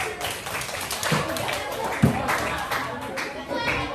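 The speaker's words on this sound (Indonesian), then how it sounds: "Oke, tepuk tangan untuk kita semua." Students in a junior high school classroom clap together, a loose burst of hand claps with a couple of sharper taps, mixed with children's chatter and talk throughout.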